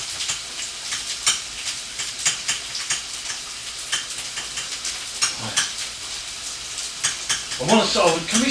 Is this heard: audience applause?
no